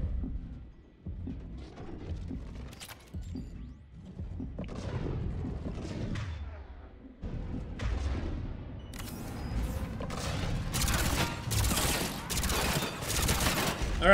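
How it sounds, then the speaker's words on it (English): Rapid gunfire and explosions from a Mass Effect 3 firefight, with bursts of shots building into dense, loud volleys toward the end, mixed with game sounds throughout. "Oh god, I'm getting shot all over."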